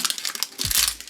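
Label peeled off a plastic item, a brief close crinkling and rustling burst ending with a low thump.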